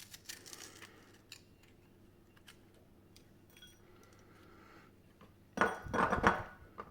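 Bell peppers being seeded with a knife on a cutting board: a few faint scrapes and taps early, then a louder burst of knife and board clatter near the end, with no talk.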